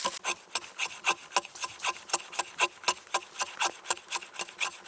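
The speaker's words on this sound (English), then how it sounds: "making shavings with an axe is never gonna be as good as with your belt knife or pocket knife" A restored vintage American Plumb axe shaves wood, making a close, steady series of short scraping strokes. About three to four rasping rubs come each second in an even rhythm.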